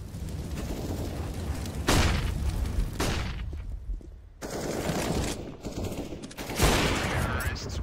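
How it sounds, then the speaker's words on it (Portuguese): Gunfire and grenade blasts from a Counter-Strike: Global Offensive professional match, an IEM Brazil qualifier semifinal, with dense rattling volleys and several loud bursts under continuous commentator talk. "É granada voando pra todo lado, velho."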